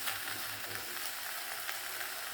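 Okra and onions sauté together in a pan with a soft, even crackle and faint stirring scrapes, fairly quiet and steady throughout.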